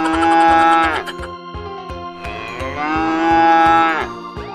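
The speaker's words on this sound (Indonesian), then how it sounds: "Induk sapi teman-teman." A toy mother cow, white and black, gives two long, loud electronic moos with a rhythmic ticking beat underneath, heard alone up close.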